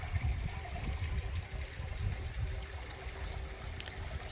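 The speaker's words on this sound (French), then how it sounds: "avec ce petit bruit d'eau" A small trickle of running water flows close by, a soft continuous burble with low rumble, steady throughout with no voice over it.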